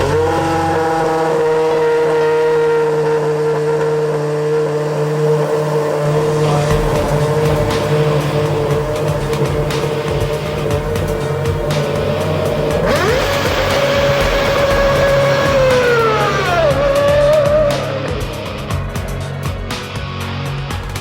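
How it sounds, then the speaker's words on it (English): A V8 Formula 1 race car engine roars loudly and continuously, pitch climbing and falling with revs, a sharp rising sweep late on before the note drops away near the end, with no voices. "Nothing can prepare you for how loud a V8 Formula 1 car really is."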